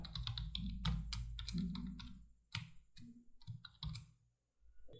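Quick keystrokes tap on a laptop keyboard in short irregular bursts as a password is entered, close by and fairly quiet, with brief pauses between.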